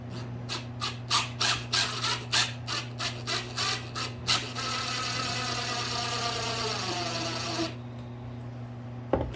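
A drill drives thin trim head screws into a wooden picture frame; about a dozen short bursts of whirring come first, then a steady longer whine for a few seconds, close and unaccompanied by talk.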